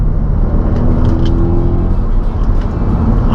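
Audi RS4 V8 with 420 hp and Quattro all-wheel drive accelerating hard, a loud, dense low engine roar heard steadily from inside the cabin.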